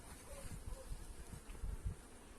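Honeybees of a weak colony buzz inside their hive ahead of wintering, a close, steady droning hum with a few soft low thumps and no voices.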